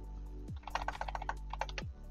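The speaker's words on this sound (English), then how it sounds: "I have a new keyboard and I'm still learning how to type on it" Rapid typing on a new computer keyboard during a city geography quiz, a quick run of close crisp keystrokes over a steady low electronic hum, with no speech.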